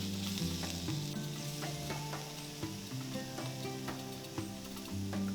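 Beef frying in a pan and stirred with a plastic utensil, with a steady close sizzle and repeated scraping and clatter of stirring, and no voices over it.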